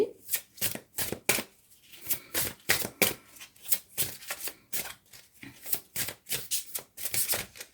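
Cards being shuffled and drawn during an astrology card reading make close, crisp riffling and snapping bursts, repeating in an irregular rhythm over several seconds with little else around them.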